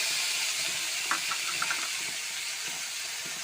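A paste of ginger, garlic, green chilli, onion and tomato sizzles in hot mustard oil with whole garam masala and bay leaves, a constant close hiss with faint crackles and pops.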